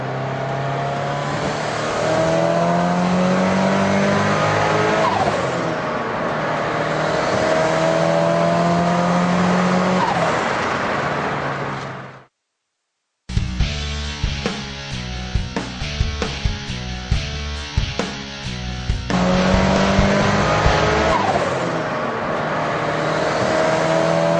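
A Ford Sierra RS Cosworth's turbocharged engine pulls hard through rising revs, drops briefly at a gearchange, then climbs again in a loud, steady roar heard from close by.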